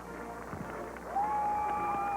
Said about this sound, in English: You hear the crowd applauding as the president walks up.